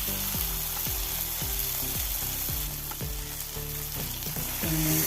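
Mackerel fries in spiced masala in a pan with a loud, continuous sizzle and crackle close by. A low, repeating thumping tone runs beneath it, and no voices are heard.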